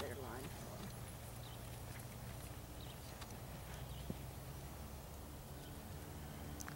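A dressage horse in an arena moves in counter canter during a freestyle ride. Faint, rhythmic hoof beats come through over a noisy background, with a voice present at a low level.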